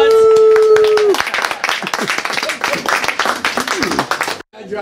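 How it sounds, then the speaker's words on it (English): Applause and clapping at an 89th birthday party break out right after a sung "Happy birthday," with loud, dense hand claps mixed with cheering voices and chatter for several seconds before stopping abruptly. "Applause!"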